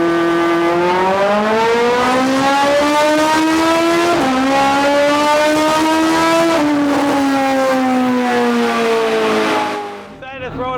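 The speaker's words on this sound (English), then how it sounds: "Decided to throw it on the dyno and do a quick shift real quick from second to third." Car on a dyno revving hard and shifting from second to third, a loud rising engine whine that climbs through several gear changes with short pitch drops, then fades out at the end.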